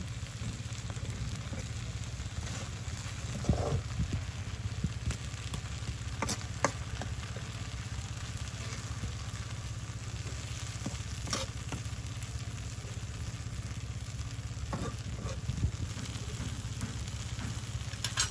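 Water spinach greens cooked with small shrimp sizzle steadily in a pan at a village kitchen in Hatiya, a continuous close frying hiss with occasional stirring scrapes and clinks.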